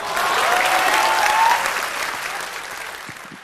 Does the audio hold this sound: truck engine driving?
no